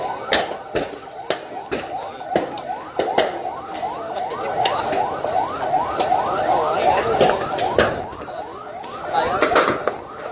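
A wailing fire truck siren sweeps up and down repeatedly amid street commotion at a public market fire in Santa Ana, Cagayan Valley, with sharp knocks and people's voices mixed in.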